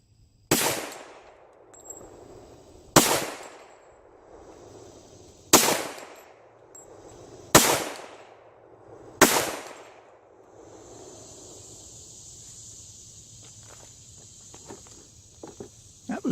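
Five sharp pistol shots fired with Alliant shotshell powder loads in 200-grain bullets ring out at a steady pace of roughly two to three seconds, each loud crack trailing off in outdoor echo, followed by a quieter stretch of insect buzz and faint clatter.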